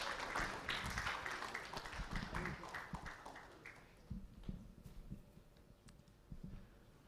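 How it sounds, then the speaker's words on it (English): A conference audience at a Ghana population prospects dissemination event claps for a presenter, a fairly faint spread of scattered hand claps that thins out over several seconds into isolated taps. "Please give a resounding round of applause."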